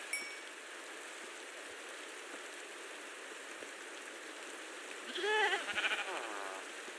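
Goats in a video game give a short burst of bleating near the end, over a steady rain-like ambient hiss that runs throughout.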